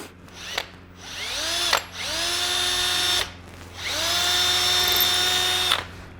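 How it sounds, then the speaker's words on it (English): A power drill with a new bit bores into wood to drill out cracks. It makes three loud, close bursts of high whining spin-up, each held for about a second or two, with short pauses between them. "So I'm just gonna drill them out with this new drill bit"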